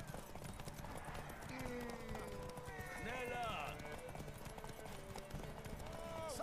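Horse hooves clip-clopping in The Witcher 3, a steady galloping rhythm under game music and an occasional whinny, with someone talking over it throughout.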